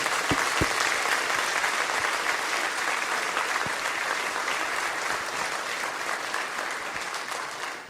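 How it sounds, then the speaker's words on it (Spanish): A church congregation bursts into loud, sustained applause, many hands clapping together close and filling the room for several seconds before tapering slightly. "Demos un aplauso al Señor"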